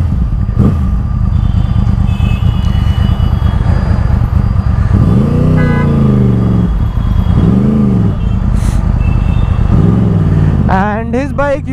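Yamaha R1 superbike fitted with a 4x2 Akrapovic exhaust, ridden on the road: a loud, steady engine drone with rising rev sweeps, constant wind rush close to the mic, and someone talking over it.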